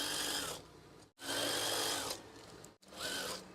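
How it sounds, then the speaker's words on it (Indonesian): A sewing machine stitches swag curtain fabric in three bursts of rapid whirring, each running about a second, separated by short pauses, close and clear. "Jahit lagi."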